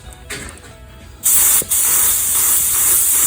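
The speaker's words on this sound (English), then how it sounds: "I'm trying to spray the glue on the" Spray adhesive from an aerosol can, applied to wood for upholstering a door panel, comes as a loud, sustained close-up hiss that starts abruptly after a quiet pause, breaks off briefly, then keeps on.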